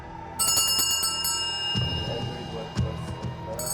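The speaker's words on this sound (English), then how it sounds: "The ringing of this bell is like an echo of the past" A small antique bell marked Spassky works 1905 rings with bright, sustained metallic tones, struck a few times up close, with faint background noise between strikes.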